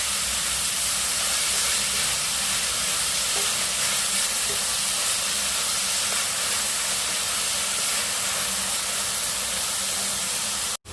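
Onions sautéing in a pan on a low flame for Kerala-style egg roast, giving a steady close sizzle and hiss that continues evenly without speech and cuts off abruptly at the end.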